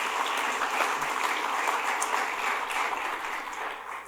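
Steady broadband applause from a forum audience at a downtown stakeholders' event, sustained and even for several seconds, fairly close, with no speech over it.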